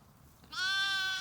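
A single sheep bleats on a farm holding Katahdin and Katahdin-Dorper cross sheep, one loud, close, sustained quavering call after a brief quiet lead-in.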